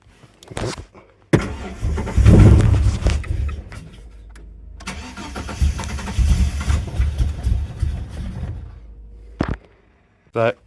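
A stage 4 cammed AU Tickford engine in a 1993 Fairlane cranks and fires, then runs roughly with uneven, surging revs before cutting out, close by, with someone talking around it.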